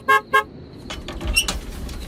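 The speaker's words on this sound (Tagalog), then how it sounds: "Bumusina ka, Salvador, para buksan nila ang gate." A car horn gives two short loud toots up close, sounded to get a gate opened, followed by faint creaking and vehicle noise.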